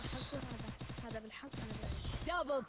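Rapid bursts of gunfire in the battle game Free Fire, a quick string of sharp shots over roughly a second and a half, followed by a short electronic tone and a voice.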